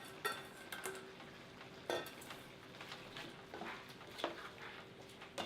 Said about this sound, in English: I'm gonna add some chopped onions and garlic to this and saute for